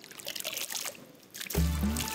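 Water being poured, a trickling splash that turns into a louder, steady stream of liquid in the second half, close and brief.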